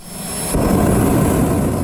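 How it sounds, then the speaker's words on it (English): A loud, steady roar of a jet car's jet engine at a Mustang car show, thick and rumbling, swelling louder about halfway through and holding strong to the end. "I really want to drive a jet car."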